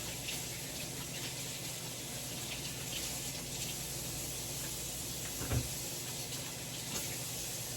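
A kitchen faucet runs steadily while hands are washed, a constant hiss of flowing water with a brief thump partway through and no talking.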